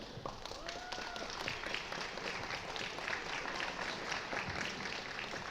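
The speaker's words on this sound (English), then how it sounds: "Let's give them the final applause for all the hard work and dedication" Audience applause for contestants at the end of a school speech contest: steady, even clapping from a crowd, continuous and moderately distant throughout, with a faint whistle-like tone or two rising briefly above it.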